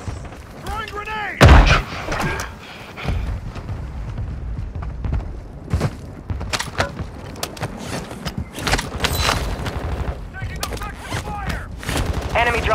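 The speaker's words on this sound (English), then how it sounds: "Throwing grenade!" Loud burst of a grenade explosion early on, followed by rapid gunfire and scattered shots in a first-person shooter video game, with a voice talking intermittently over the combat.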